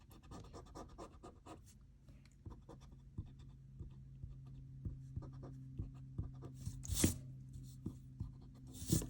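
Pencil drawing and erasing on paper while sketching a portrait of Hermione Granger, with close, scratchy strokes and rubbing repeated in a steady, quiet rhythm and a few louder taps near the end.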